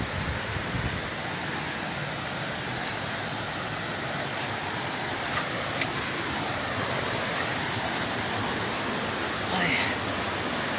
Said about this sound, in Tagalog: Ngayon, ayan yung falls.